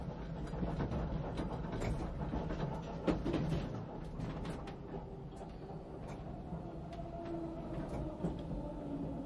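A Metropolitan line train running on a viaduct past Shepherd's Bush Market, heard as a steady low rumble of wheels with rhythmic rail clicks and faint squeals, continuous and fairly quiet with no speech.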